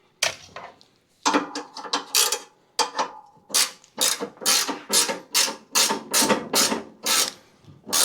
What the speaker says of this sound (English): So we'll tighten this back down.